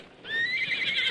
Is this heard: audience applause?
no